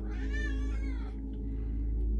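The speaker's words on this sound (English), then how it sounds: "My cat is talking crazy" A pet cat gives one drawn-out, wavering meow that fades after about a second, close to the microphone over a steady low background hum.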